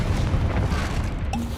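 A Confringo fire spell blast in the video game Hogwarts Legacy: a loud, dense, roaring burst of low rumble and crackle that stays strong throughout, then ends in a short bright tone.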